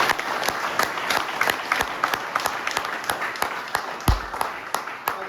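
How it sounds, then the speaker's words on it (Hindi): Applause from the audience at a Sunday business meeting: dense, sustained hand clapping with sharp individual claps standing out, fairly loud and continuous throughout. "जोरदार ताली हो जाए।"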